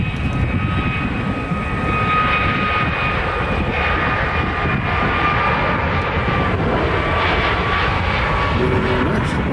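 A Southwest Airlines jet departs Nashville International Airport bound for Las Vegas, its engines roaring in a loud, sustained rumble with a high turbine whine that holds steady throughout.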